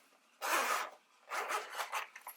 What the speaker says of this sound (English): It has the silver zipper.